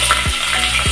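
Dried red chillies frying in hot oil for a tomato charu, a steady close sizzle with two dull thumps of a spoon stirring the pan.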